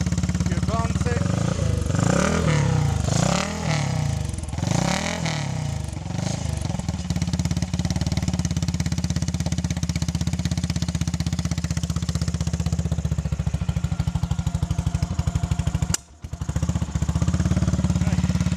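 A BSA Gold Star single-cylinder motorcycle engine runs steadily, its low thumping exhaust pulsing throughout with a few revving swells early on and a brief cut near the end, loud and close.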